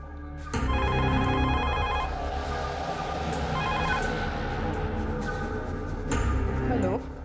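A telephone rings in a domestic drama scene, its repeated trilling bell tones sounding over a background music bed, with brief voices and noises mixed in.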